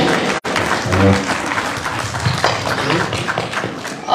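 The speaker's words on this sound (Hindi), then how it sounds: "तालियों की बड़ाहट ऐसी दिखनी चाहिए।" Applause from an audience at a homeopathy award ceremony in Uttar Pradesh, a loud, continuous clatter of many hands lasting about four seconds with a brief dip near the start.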